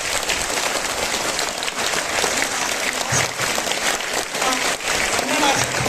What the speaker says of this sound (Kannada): ಹೌದು ಅನ್ನೋದಾದ್ರೆ ಒಂದ್ಸಲ ಜೋರಾಗಿ ಚಪ್ಪಾಳೆ ತಟ್ಟಿ